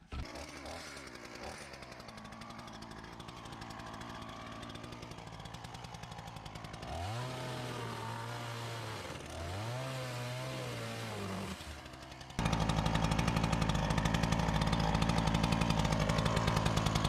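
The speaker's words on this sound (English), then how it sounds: "Okay, if I can get the chainsaw working again." A chainsaw runs steadily, its engine rising and falling through two revving bursts before roaring at full throttle near the end, loud and close.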